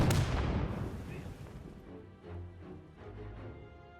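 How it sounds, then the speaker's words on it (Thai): Artillery fire in the World War II video game Men of War 2: a heavy booming blast at the start that decays into rumbling, followed by softer distant thuds and battle noise. "ปืนใหญ่มันน่ากลัวเหลือเกิน"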